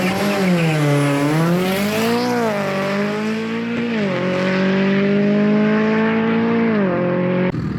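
A modified Audi S3 race car drives on a track for its first outing, its engine a loud, close, sustained roar rising and falling with gear changes and revs, with a faint tire squeal and no voices.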